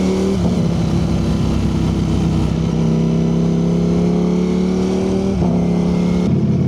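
A car engine revs up close and loud, its pitch climbing steadily through two acceleration pulls with a brief dip between them, the motor droning continuously throughout with no voices.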